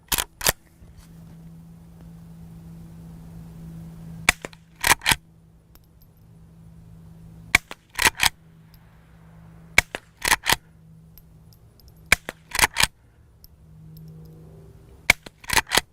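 A suppressed, threaded Henry Frontier lever-action rifle fires sharp, muffled shots in small clusters of two or three, spaced across the span over a low steady hum, each crack loud and close with no talk.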